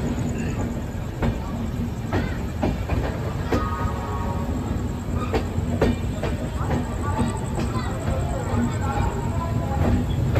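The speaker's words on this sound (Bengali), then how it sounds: "হাওড়া থেকে এখন ট্রেন চলেছে তার গন্তব্যের দিকে।" A passenger train running out of Howrah, heard from inside a compartment: a steady rumbling roll with rhythmic wheel clicks over the rail joints and faint squeals, continuous and fairly loud.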